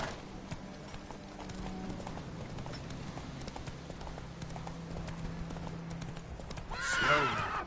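Roach, the horse in The Witcher video game, clip-clops along with steady hoofbeats for several seconds, then gives a loud, clear whinny near the end.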